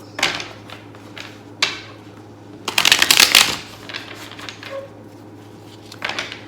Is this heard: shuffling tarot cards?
yes